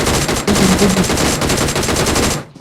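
Rapid automatic gunfire from a video game rattles loud and continuous in fast bursts, then cuts off abruptly near the end.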